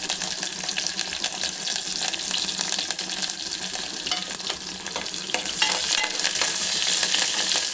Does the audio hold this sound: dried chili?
yes